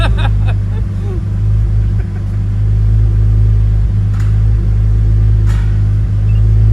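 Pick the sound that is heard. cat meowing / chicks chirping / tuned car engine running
tuned car engine running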